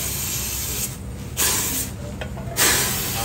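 Aerosol spray cans hiss in loud, steady broadband bursts with short pauses between sprays, close up, during work on a Toyota Tamaraw FX air-conditioning evaporator.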